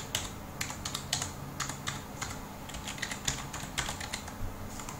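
Fingers tap out a password on a computer keyboard, producing quick irregular clusters of light clicks and keystrokes, close and clear with no talking.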